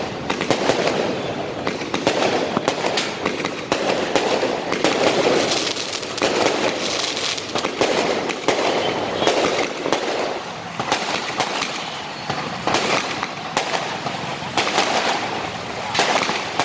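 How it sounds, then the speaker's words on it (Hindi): Firecrackers bursting during Diwali celebrations, a dense, continuous crackle of rapid pops and bangs that keeps going without a break, loud and close. "सभी बच्चों ने पर्यावरण को ध्यान में रखते हुए खूब मिठाइयां खाकर और पटाखे जलाकर दीपावली पर्व उत्साहपूर्वक मनाया।"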